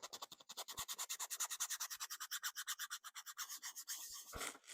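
Rhythmic sanding strokes rub across a rough spot on a small model mine locomotive, the Clayton loco, in quick regular back-and-forth passes, close up and steady with no talking.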